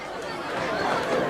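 A brief stretch of crowd murmur in the stands at a Madison vs Pequannock high school football game on senior night, a steady low babble of many voices that swells slightly.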